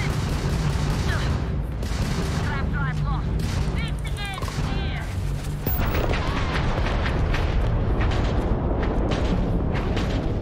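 Player gunfire in the space game Starfield, rapid repeated shots and booming blasts in a steady loud barrage, with chirping weapon effects and a voice talking over the combat noise.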